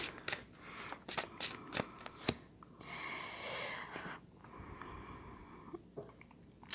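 Tarot cards are shuffled and drawn by hand, with a run of sharp riffling snaps followed by softer sliding and rustling of cards, quiet and close with no speech.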